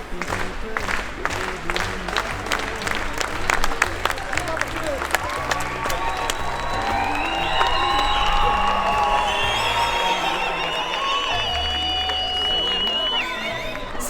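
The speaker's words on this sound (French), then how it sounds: "il est en train de lancer un applaudissement digne des Coupes du Monde" A crowd at a Christmas gathering in Belgium claps in unison in the Icelandic World Cup style, with cheering and whoops rising and swelling into sustained loud applause.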